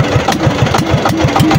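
A fishing boat's engine chugs in a loud, rapid, even rhythm of low thumping pulses, close by and steady, with no voices over it.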